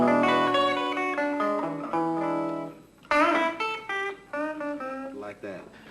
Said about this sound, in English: He was playing like dominant ninth chords